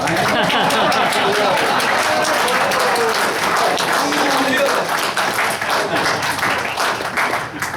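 Audience applause welcoming Paul Nehlen to the stage: dense, loud clapping from a crowd that stays strong throughout and tapers slightly at the end.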